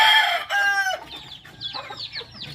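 Chickens make loud close clucks and squawks, one sharp drawn-out call followed by quicker, fainter cackling, while the flock is being fed.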